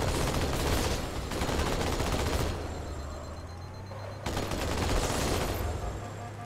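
Rapid, sustained turret gunfire in a Halo video game battle against Covenant forces, loud and continuous bursts with brief lulls, dense and close, with no talk over it.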